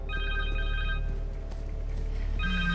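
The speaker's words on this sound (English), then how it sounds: "Phone!" A cell phone rings inside the Spider-Man 2 PS5 game: two bursts of bright, electronic ringtone chimes, one at the start and one near the end, over a steady low game hum.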